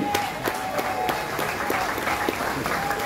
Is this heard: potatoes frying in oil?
no